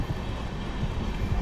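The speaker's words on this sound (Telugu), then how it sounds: "నెల్లూరుకి మన ట్రైన్ ప్లాట్ఫామ్ 2కి అయితే వచ్చింది." An express train pulling into platform 2 at Nellore railway station gives a steady, loud broadband rumble and roar, close by and continuous with no voices.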